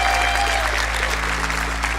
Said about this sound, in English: Can we get a round of applause for the analysts